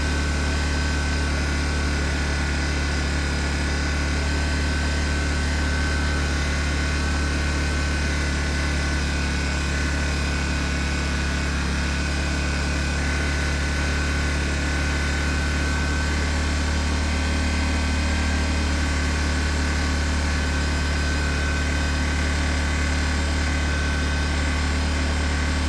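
A Honda portable generator runs at a steady, unbroken drone for the whole stretch, loud and close, while it charges a 12-volt battery, with no voices.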